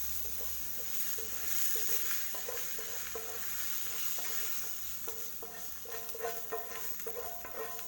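Chicken pieces sizzle in a hot frying pan while being stirred, with a constant hiss under repeated scraping and clattering strokes that grow busier toward the end.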